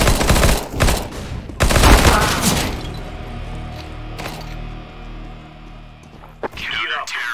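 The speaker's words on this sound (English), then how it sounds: "Throwing flashbang." Gunfire bursts and a flashbang pop in CS:GO, loud sharp volleys early on that fade into a decaying ringing tail, with a few later shots and speech mixed in.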